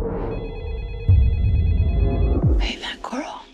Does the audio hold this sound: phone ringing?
yes